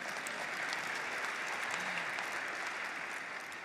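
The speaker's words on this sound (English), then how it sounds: "you can clap for that." Sustained audience applause fills a large hall at the 2018 AIPAC policy conference, a steady wash of many clapping hands at moderate distance with no break, continuing evenly throughout.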